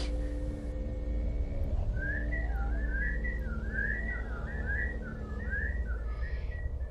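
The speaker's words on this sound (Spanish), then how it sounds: "Los silbidos volvieron." A warbling, wavering whistle rises and falls in a loose melody over a constant low hum, fairly clear and continuous.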